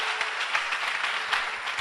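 A church congregation applauding together, a steady dense wash of clapping from many hands held at even loudness throughout, with no voices standing out.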